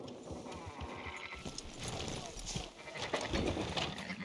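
Sheep bleat repeatedly in Red Dead Redemption 2 gameplay, fairly faint and mixed under ongoing talk and clip-clopping hooves.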